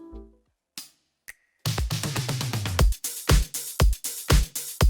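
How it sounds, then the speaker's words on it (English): A full pop drum track plays alone: after a brief sparse intro with a couple of isolated hits, a steady straight beat of layered kicks, snares and bright cymbals drives on with punchy, evenly spaced accents. "The full drums sound like this."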